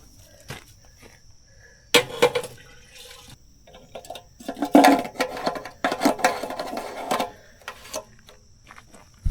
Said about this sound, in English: Now we're going to head over to the gas pump, fill this thing up